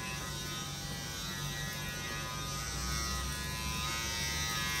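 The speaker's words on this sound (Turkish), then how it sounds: "Şöyle bir arkada böyle 10 saniye kadar bir çalıştırın makineyi." An electric hair clipper, freshly oiled, runs continuously near the listener with a steady, even buzzing drone that holds throughout.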